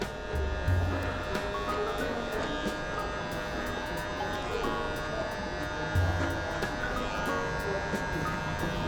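A hair clipper with a zero guard and its lever set high trims a taper fade, giving a steady close electric buzz throughout with brief rougher bursts as it cuts.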